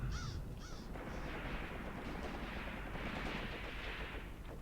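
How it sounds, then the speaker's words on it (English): A tank firing amid battle in the Graviteam Tactics game set around Kharkov in 1942: a sustained, dense roar of gunfire and rumbling explosions, fairly quiet, with a couple of bird-like caws at the start. "now the tank is actually firing"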